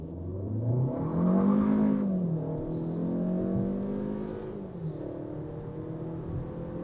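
A 2026 Kia K4 GT Line hatchback accelerates hard from 0 to 60 in sport mode, the engine note climbing through gears with a smooth rising drone heard from inside the cabin.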